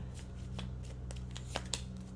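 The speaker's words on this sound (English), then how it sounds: "Last shuffle." Tarot cards being shuffled during a reading, a soft papery riffling with a few sharper snaps near the end, quiet and close over a low steady background hum.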